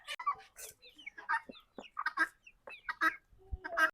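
Chickens clucking in short, scattered bursts close by as they are fed, with a young duckling among them and brief pauses between calls.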